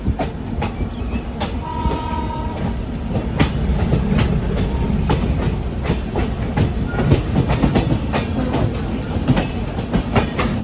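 A mail train from Mangaluru pulls into MGR Chennai Central station after an 889 km run, wheels clattering over rail joints in a steady, loud, close rhythm throughout.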